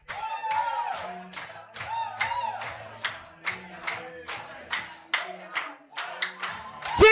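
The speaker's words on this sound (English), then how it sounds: "Let's get a big round of applause." An award ceremony audience at a hospital competition claps for the winning team, a scattered round of individual hand claps at moderate distance, uneven and rhythmic in bursts, with a few faint voices underneath.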